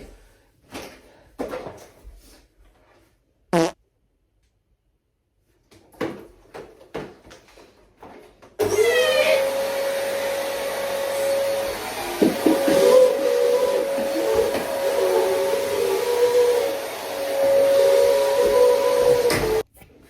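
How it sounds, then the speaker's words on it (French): A vacuum cleaner runs while cleaning a ceiling during a room setup, starting partway through with a loud steady whine and hiss that shifts slightly as the nozzle moves, after a stretch of scattered knocks and handling noises. "on va passer à l'étape la plus chiante, c'est-à-dire aspirer ce plafond de merde"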